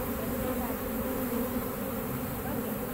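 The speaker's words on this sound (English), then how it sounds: "these bees fanning their pheromone" Honeybees fan queen pheromone during a hive removal at a mobile home in Lakeland, Florida, giving a constant, even buzzing hum from a mass of bees close by, unbroken throughout.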